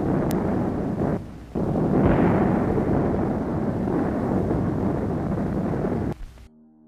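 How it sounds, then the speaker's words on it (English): A naval barrage of heavy guns opening the Battle of Europe: deep booming blasts roll continuously into one another, loud and rumbling, with a brief lull early on before the barrage resumes and cuts off near the end. "Then came the naval barrage. These were the opening guns in the Battle of Europe."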